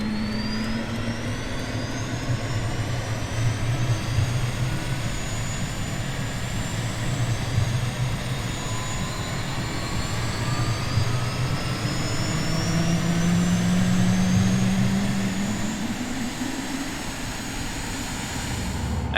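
A Cirrus Vision Jet G2 engine in Microsoft Flight Simulator spools up from a low rumble into a rising, steady whine, with tones sweeping upward as it builds; loud, continuous, and without speech.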